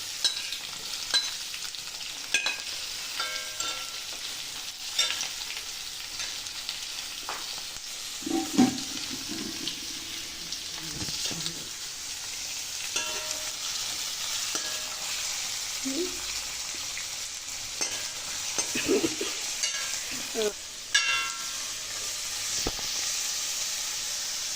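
Onions frying and being stirred in a pan for beef curry alongside green chilies and curry leaves, a steady sizzling hiss broken by occasional scraping stirs, close and continuous.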